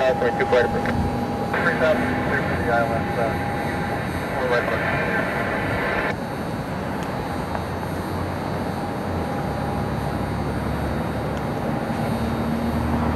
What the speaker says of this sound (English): Got our heavy jet lining up.